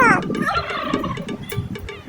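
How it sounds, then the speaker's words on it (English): A peacock gives a loud, harsh call that starts with a sharp descending cry and trails into a rough, warbling tail, heard alone and close for about two seconds. "peacock"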